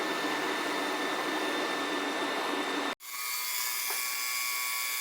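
Branson ultrasonic parts cleaner working on carburetor parts from a 1960 Ironhead, a loud steady high whine that cuts out abruptly, then a quieter hum continues.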